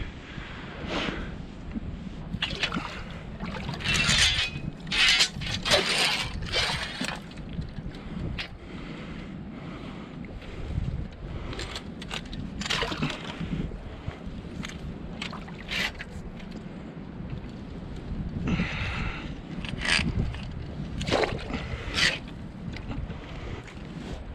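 Boat dragged and sliding through a swamp on a beaver trapping outing, giving repeated scraping, rushing bursts separated by short pauses, close to the microphone with wind noise.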